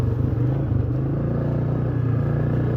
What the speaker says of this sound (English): I don't know if that was skipping or if I was actually hitting the rev limiter.